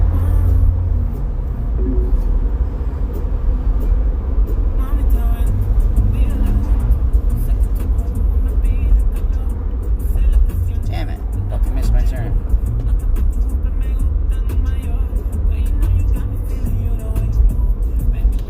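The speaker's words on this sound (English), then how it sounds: "that fucking exhaust pipe sounds horrible" A car with a horrible-sounding exhaust pipe gives a loud, steady low rumble and drone that persists throughout, with people talking over it.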